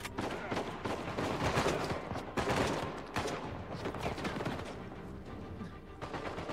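Sustained bursts of turret machine-gun fire in the Uncharted 4 action game, dense rapid volleys rattling loud and close with brief gaps between bursts.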